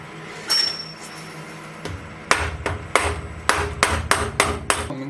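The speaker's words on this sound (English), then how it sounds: "let's give it a few whacks." A hammer strikes the spindle quill of a ZX45 milling machine in a workshop, with one early ringing metallic blow, a short pause, then a quick run of about seven sharp clanks, close and loud.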